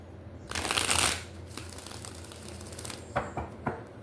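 Tarot cards are shuffled in a few quick papery riffling bursts, the loudest one early, then softer shuffles and taps near the end, with no talking.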